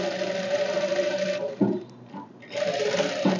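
A sewing machine runs in a steady, even whir while it stitches a blouse shoulder seam. The motor pauses briefly midway, then picks up again.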